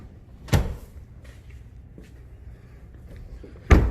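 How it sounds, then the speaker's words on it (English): A rear seat in a VW Atlas SE being folded back up: two sharp, loud latching thumps, one near the start and one near the end, with quiet rustling handling noise between them. "We'll fold this seat back up here"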